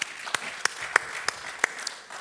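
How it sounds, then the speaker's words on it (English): Sparse claps from a small conference audience after a panel speaker, a handful of distinct sharp hand slaps spread over a couple of seconds, fairly close and quiet. "Let's applaud him, please."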